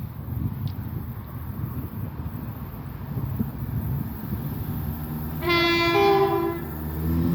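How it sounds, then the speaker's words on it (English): A CrossCountry Voyager train passes through Starcross station in Devon, a steady rumble over wind noise followed by a loud two-tone horn blast near the end. "It's a cross-country Voyager off to Edinburgh."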